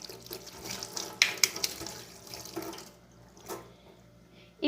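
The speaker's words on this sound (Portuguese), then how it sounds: "eu preciso higienizar aqui os moldes. Vou enxaguar eles" Tap water runs into a sink as silicone molds are rinsed under it, with soft splashing and a few sharper water hits. The flow is fairly quiet and drops off partway through.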